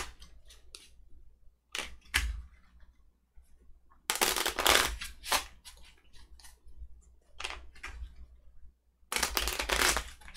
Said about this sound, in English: And now I'm going to shuffle up my orders.